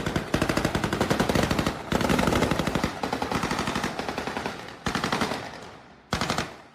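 Rapid bursts of automatic gunfire from soldiers riding armored vehicles through Taipei streets at night, loud and close, with rattling volleys broken by short pauses.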